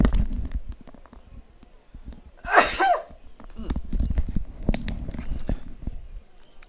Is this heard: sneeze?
yes